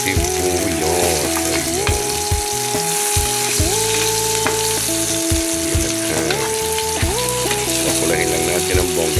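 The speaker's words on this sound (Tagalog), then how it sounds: "Lagyan na natin ang ating sibuyos." Onion sizzles loudly in a hot frying pan with pepper, a steady, close, crackling fry that runs throughout, with background music and a brief spoken word over it.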